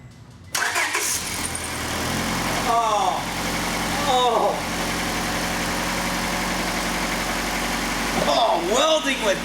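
A car engine runs steadily at idle after its exhaust manifold has been welded back together, a continuous close rumble with a few brief squeaky sounds and voices talking over it.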